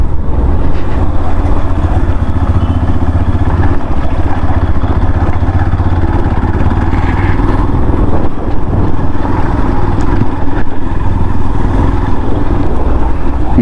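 A 2024 Yamaha FZS V4 motorcycle ridden over a rough, potholed road patch, its engine droning steadily and loudly with constant wind and road rumble throughout, no talking.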